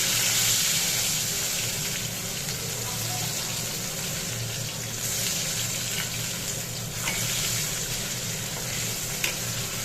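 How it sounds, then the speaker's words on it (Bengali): Potatoes frying in oil in a home kitchen give a steady, close sizzle with a dense hiss that runs unbroken for the whole stretch, with a few faint clinks of stirring. "আলুগুলিকে ভাজ ভেজে নিই লাল লাল করে একটু"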